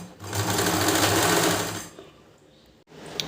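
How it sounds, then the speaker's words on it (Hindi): A sewing machine stitches fabric for a summer dress in a steady, fast whirring run of under two seconds, then stops, followed by quiet handling noises. "इस तरह से आप सिलाई कर दीजिए"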